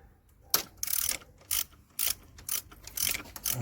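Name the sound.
socket wrench ratcheting alternator bolts on a BMW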